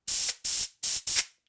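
Four loud, close bursts of hissing compressed air, each about a quarter second long with short pauses between them, blown through a rubber-tipped nozzle into a port on a 650cc Harley-Davidson XL Sportster single-cylinder race engine.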